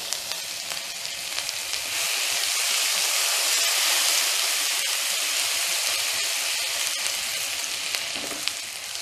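A tablespoon of finely minced ginger and garlic frying in hot oil for Thai-style pineapple fried rice: a close, steady, hissing sizzle that holds for several seconds with scattered small crackles and no voices.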